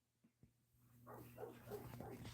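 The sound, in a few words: dogs barking and whimpering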